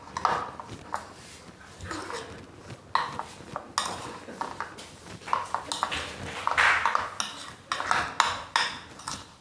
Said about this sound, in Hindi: ये देखिए इस तरह से चम्मच से हम इसमें मिला देंगे